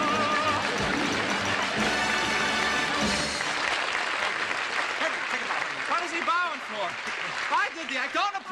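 A television studio audience at a 1960 variety show breaks into sustained applause, loud and dense clapping that swells and continues throughout while a voice talks over it.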